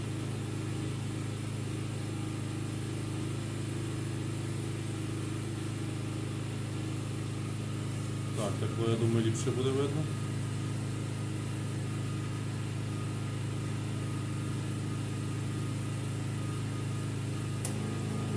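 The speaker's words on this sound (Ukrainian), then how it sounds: "Звук генератора, бачите, поки що не міняється." A generator runs with no load, giving a steady, even engine hum that holds unchanged throughout, while someone speaks briefly near the middle.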